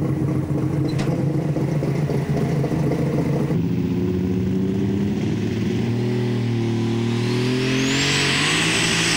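Alcohol-fuelled pulling tractor roaring down the track at a 1996 European tractor pull in Bernay, France, a loud sustained engine howl that changes pitch midway and climbs into a high whine near the end.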